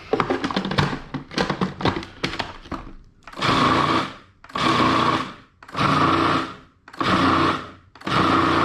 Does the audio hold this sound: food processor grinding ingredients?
yes